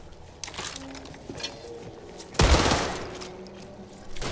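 Gunfire in the zombie shooter Back 4 Blood: scattered shots early on, then one loud, close blast around the middle that rings and fades slowly, with more shots at the end.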